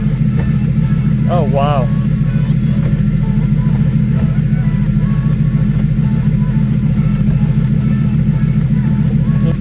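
A BMW E36 with a swapped ZF transmission idles steadily with a low, continuous engine drone, its clutch let out in first gear, while a person briefly exclaims over it.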